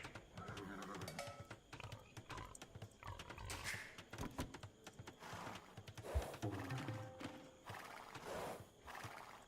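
Horse in a strategy video game, neighing and whinnying repeatedly over clip-clop hooves and busy game sounds, faint and continuous, with no talk.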